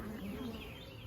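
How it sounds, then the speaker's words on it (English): Honey bees buzz in a strong, steady drone around a beehive during an inspection, a continuous close hum with a slight wavering pitch and no pauses. "Y'all are hearing a strong buzzing."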